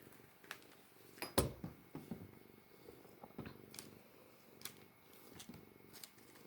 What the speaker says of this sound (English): She is a Scottish fold cat.